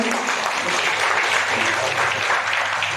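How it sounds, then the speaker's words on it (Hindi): Audience applause fills a hotel function room at an Oxfam India ceremony as a project is officially launched; steady, dense clapping holds at even loudness throughout, close and continuous. "तालियों से इसका शुरुआत कीजिए।"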